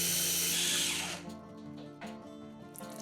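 A food chopper grinding soaked bread, a loud whirring motor burst for about a second that drops to a lower whine, with a couple of short pulses after.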